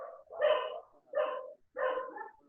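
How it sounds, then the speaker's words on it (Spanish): A dog barks in a home during a video call: three loud, close barks with whiny edges, separated by short silences. No one speaks. "Hay alguien que tiene perros en casa y que se mete."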